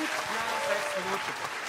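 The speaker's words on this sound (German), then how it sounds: "Euren Applaus" An audience applauds steadily after a poetry slam performance, a dense wash of clapping from a crowd with a voice speaking over it.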